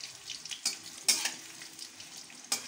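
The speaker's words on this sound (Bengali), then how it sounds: "আর এই যেখানে ভাজছি দেখো, ভাজা প্রায় হয়ে গেল" Gokul pitha, coconut-filled fried cakes, fry in a pan with a quiet sizzle, punctuated by a few sharp utensil clinks and scrapes, close and without speech.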